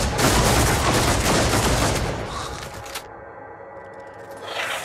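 Rapid volleys of gunfire from the Warhammer 40,000: Deathwatch video game, a loud dense burst of shots that trails off into a ringing tail and quieter game sounds.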